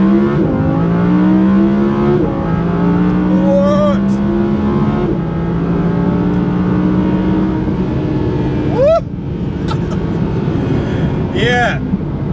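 Audi R8 RWS with the 5.2 V10 shared with the Lamborghini Huracan, driven in first gear with its engine droning steadily and rising in pitch, loud and close from inside the car, with a voice talking over it.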